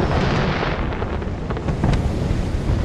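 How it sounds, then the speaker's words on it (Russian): Fireworks going off at a New Year's scene in the Hitman 2 video game, a continuous booming rumble with several sharper crackling pops, loud and steady throughout, with no voices. "Хоть посмотрим, ребята, на фейерверк."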